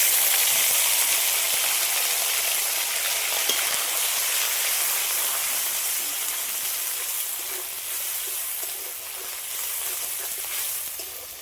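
Whole tomatoes, dried chillies and ginger-garlic paste fry in a pan with cumin seeds, making a close, steady hissing sizzle that eases slightly toward the end.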